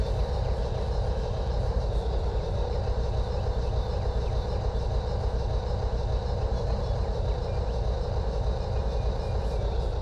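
A train rolls steadily in the Trainz railroad game on a Conway Southern coal field line, with a constant low rumble and rail noise at a medium level, unbroken and without speech.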